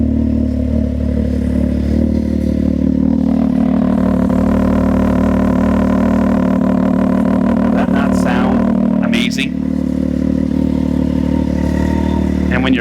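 A Can-Am Maverick X3 DS Turbo with a Yoshimura exhaust idles loudly up close, its engine note rising and falling through a few throttle blips amid some clatter.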